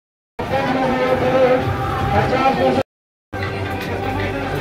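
A dense crowd fills a busy shopping mall on a Sunday with a steady roar of overlapping voices and babble, cut by a short silent gap before it resumes.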